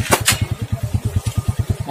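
Idling motorcycle engine with a steady, rapid low chugging pulse throughout, close and fairly loud, plus a couple of brief higher bursts near the start.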